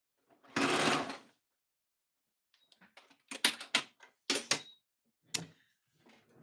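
A home sewing machine stitches a small fabric tissue pouch in quiet short bursts, one longer whirring run followed after a pause by several quick clicky stitching spurts, close and faint.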